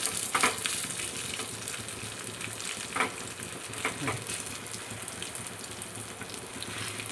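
Karadi leaf (karadi soppu) mundi batter, a Malenadu specialty, frying and cooking over a low-to-medium flame in a hot pan, giving a soft steady sizzle with a few brief scraping clicks, close by and without talk.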